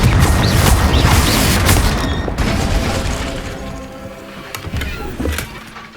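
Confringo explosion spell cast in Hogwarts Legacy: a loud booming blast and rumbling crash dominate the opening seconds, then decay into a fading resonant tail with faint clinks.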